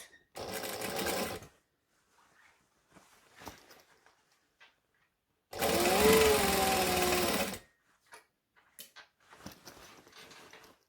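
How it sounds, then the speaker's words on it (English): A sewing machine stitches around the curved edge of a Hippie Van bag in two close, steady bursts, the second longer, separated by quiet fabric handling and small clicks. "And now all I have to do is stitch around."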